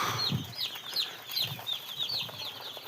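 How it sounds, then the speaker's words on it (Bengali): Small chickens cluck and peep in soft, repeated bursts, with a few faint flutters and low scuffling underneath. "এখান দিয়ে দেখাচ্ছি কত কিউটি কিউটি মুরগি"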